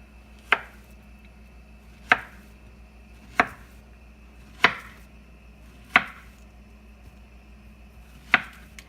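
A knife chops through plantains on a cutting board, six sharp evenly spaced thunks about every second and a half, close and clear, no talking.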